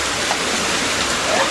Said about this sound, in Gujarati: ફૂલ કરા આવે છે